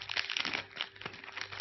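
A Kinder Bueno Dark plastic wrapper crinkles and crackles up close as hands work it open, a continuous rustling with a few sharper crackles.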